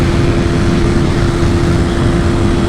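A KTM RC 200 BS3 motorcycle ridden at speed of around 120, a loud, steady engine drone blended with heavy wind rush, continuous and close throughout with no talking.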